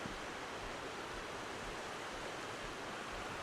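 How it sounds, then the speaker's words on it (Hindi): A river flowing close by makes a steady, even rushing hiss of water, quiet and unbroken, with no voices over it. "ये हमारे पास नदी बह रही है इधर"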